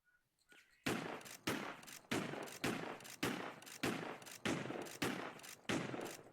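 A .44 Magnum revolver in the Roblox game Anomic fires about ten loud gunshots in a steady rhythm, each sharp crack followed by a short decay, with no talking over it.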